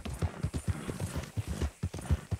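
Horse hooves in Red Dead Redemption 2 clop in a steady, close rhythm, a brisk regular gait of crisp strikes with no talk over them.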